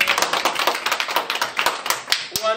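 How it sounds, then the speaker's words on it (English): A group claps at a family reunion gathering, sounding as a brisk run of uneven hand claps with voices mixed in throughout. "Can somebody clap for Joshua, please?"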